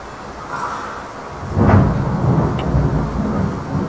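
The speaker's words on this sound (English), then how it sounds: "There's big thunder out there." Thunder outside rolls in as a deep rumble that swells partway through and lingers, heavy and fairly loud, with no talking over it.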